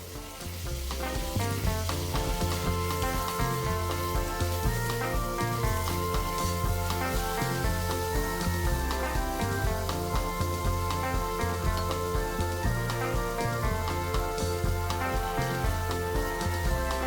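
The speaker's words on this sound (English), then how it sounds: "I stir this for 3 minutes, then I add ginger and continue stirring for another minute." Beef with vegeta, coriander powder and black pepper sizzling loudly in a pot with onions, a continuous close crackling fry joined by scraping stirs and clinks throughout, with no talk.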